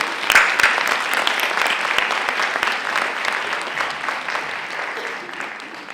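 Audience applause at a grand opening event for regional guests called onto the stage, a burst of clapping with a few sharp claps up front, settling into steady moderate clapping.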